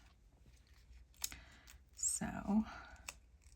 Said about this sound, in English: Move my scissors out of the way.